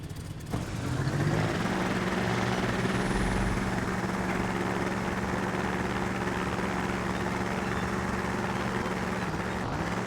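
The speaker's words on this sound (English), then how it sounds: "I do have two engines here, not just for taxiing, but for it to actually sound more like a plane." Twin engines of a player-built plane in Trailmakers drone steadily and loudly, a continuous propeller-like hum with layered tones that holds from start to finish with no talking.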